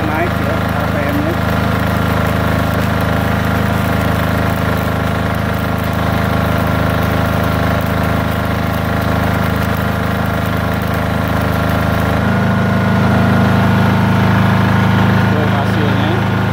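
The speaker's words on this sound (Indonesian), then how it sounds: "Jadi suara gensetnya naik ya, RPM-nya." Welding generator set engine running loud and steady, its pitch stepping up partway through as the revs rise, with a constant mechanical hum throughout and no speech.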